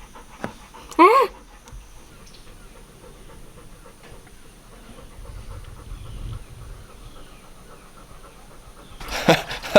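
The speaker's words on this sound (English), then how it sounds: "Always got to listen to your panting, don't we?" Bella the dog pants softly at night beside a creek, where wild-caught fish are being hand-fed, with brief louder bursts near the start and end and people talking quietly around it.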